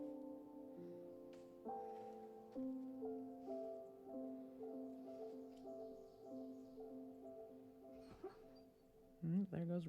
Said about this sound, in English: Can y'all hear her barking?